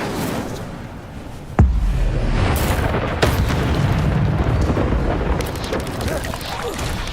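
A fire spell cast against spiders near a bridge in Hogwarts Legacy lands as a sudden loud boom, then a sustained roaring burst of flame and crackling. Scattered talk runs over it.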